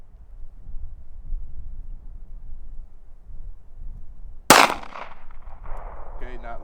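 A single sharp, loud gunshot from a pistol firing Freedom Munitions X-DEF 380 ACP self-defense rounds at a 25-yard range, cracking out of a quiet outdoor background with a brief decaying tail.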